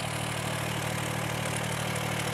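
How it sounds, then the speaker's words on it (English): A tractor pulling a sprayer idles close by after a hard run in high range, holding a steady low mechanical hum with no change in pitch. "High range, that really works the tractor hard."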